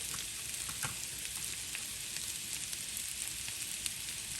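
Home fries, potato pieces cooking in butter in a pan, give off a continuous soft sizzle with small crackling pops and no voices.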